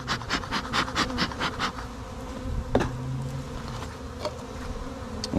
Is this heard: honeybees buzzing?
yes